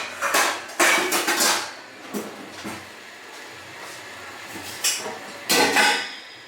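A lid goes onto a cooking pot of tomatoes and onions for paneer butter masala: several loud metallic clanks and rattles in quick clusters, close by, with quieter gaps between.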